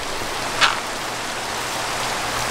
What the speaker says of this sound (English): Oh, yeah, it's raining.